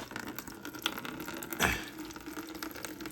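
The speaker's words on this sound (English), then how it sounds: "the moment you rest it on there, water's flowing out the bottom." Water leaking from the bottom hose of a Bissell Revolution Pet Pro carpet cleaner, a soft trickling, splashing flow with one brief louder gush, close and fairly faint.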